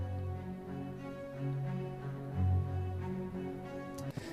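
Muted con sordino strings play soft, short staccato notes in a quiet orchestral passage with low sustained tones underneath, evenly paced and without talk.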